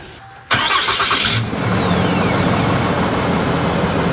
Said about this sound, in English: I love hearing that diesel rattle